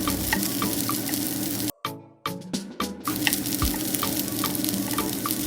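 Tamarind added to a hot pan and stirred into frying ingredients for a Kerala coconut chammanthi, with a loud continuous sizzle broken by a brief drop and a few sharp scraping stirs before the sizzle resumes.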